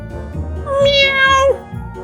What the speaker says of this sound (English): something's meowing.